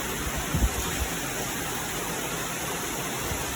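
Heavy rain falling outside, a dense steady hiss that fills the whole stretch evenly, with a couple of faint low thumps near the start.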